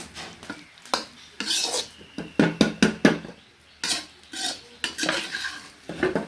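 Fried water lily stems tossed with salt, turmeric, oil and mustard are stirred in a pan: close, irregular scraping and clinking strokes of a spoon against metal, coming in quick bursts with short pauses, no voices.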